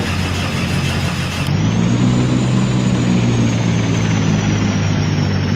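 Propeller engine of a four-engine airliner spools up in the Extreme Landing flight game, a loud steady mechanical drone that shifts and deepens partway through, then holds a sustained hum with a rising whine layered above.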